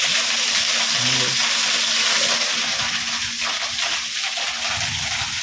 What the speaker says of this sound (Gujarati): કૂવાની અંદર પાણી જાય છે